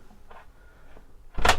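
A bathroom door in a Niesmann + Bischoff Arto 88 LF motorhome is swung and clipped back, with a soft knock midway and a sharper latching clack near the end, close by in a quiet interior.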